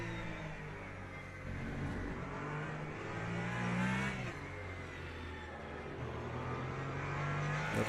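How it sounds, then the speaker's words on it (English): A race car engine in Le Mans Ultimate during an online race revs hard and steadily, its pitch climbing and stepping down with quick upshifts, a continuous close drone with no talking. "That was too early upshift."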